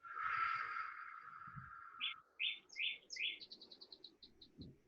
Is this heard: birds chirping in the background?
yes